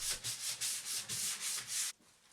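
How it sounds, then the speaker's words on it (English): Brisk back-and-forth hand sanding strokes on a wooden axe handle, about nine rhythmic rasps close up, then stopping. "I gave it all a sand, first with the random orbital sander, and then I did a bit of hand sanding"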